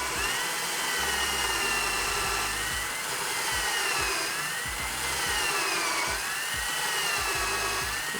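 A power drill runs continuously at high speed, boring holes for deck inserts, with a steady whining motor and grinding bite that waver slightly in pitch as the bit works through the board; loud and close, with no talk.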